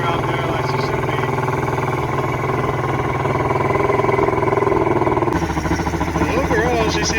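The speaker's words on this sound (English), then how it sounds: "she seems to be idling good. Well, as good as you can get with a 2-stroke." SeaArk 2072 boat with a two-stroke outboard engine idling, a loud, steady buzzing rumble with a slightly rough, uneven pulse, heard up close and continuous, with a shift in tone near the end.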